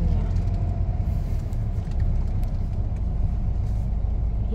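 A car pulling out of a parking lot, a low, steady engine rumble close by with faint traffic noise behind.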